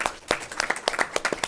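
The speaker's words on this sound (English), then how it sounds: "So round of applause for that." A meeting audience at a board of education work session breaks into a short burst of applause, with a scattering of distinct, fairly close hand claps.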